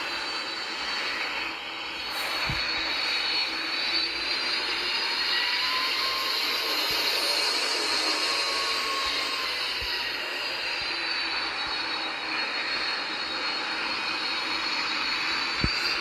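Multi-engine airplane in a Roblox flight game, several engines damaged, holds a steady broadband engine roar at take-off throttle, loud and continuous throughout with a few brief clicks and no talking.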